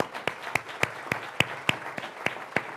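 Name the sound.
audience round of applause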